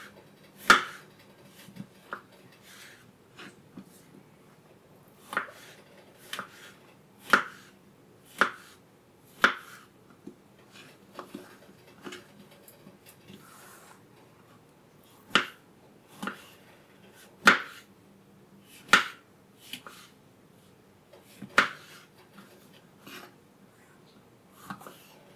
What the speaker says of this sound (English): If they're small mushrooms, I just cut them into slices like this.